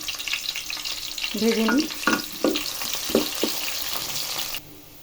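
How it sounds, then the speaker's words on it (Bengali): Chopped onions fry in a pan with a steady broadband sizzle, broken by several distinct clatters and scrapes as they are stirred, no voices present, before the sound drops away abruptly near the end. "পেঁয়াজ কুচি। হালকা পরিমাণ ভেজে নিই।"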